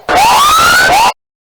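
A siren sounds at a cricket grand final to signal a no ball, one loud wailing tone sweeping slowly upward for about a second, then starting to rise again before cutting off abruptly into silence.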